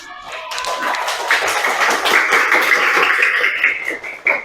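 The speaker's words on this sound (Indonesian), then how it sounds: "kasih tepuk tangan buat Anita" A classroom of students claps for a classmate, a dense burst of applause that holds steady for several seconds and then tapers off with a few final claps.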